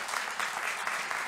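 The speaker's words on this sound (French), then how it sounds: "Merci Romain, on peut l'applaudir très fort" A short burst of steady audience clapping for a speaker at a talk on telling your story to the media, dense and even.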